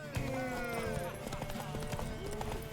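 Horse hooves clip-clopping in The Witcher 3, a steady series of close, crisp hoof strikes at a walking pace, with a horse's whinny and some faint voices in the background.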